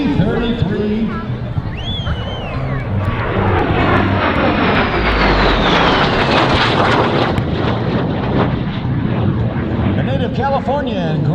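A T-33 Shooting Star jet trainer passes at an airshow, its engine roar loud and sustained as it sweeps overhead, pitch shifting as it goes by, with an announcer speaking over the noise.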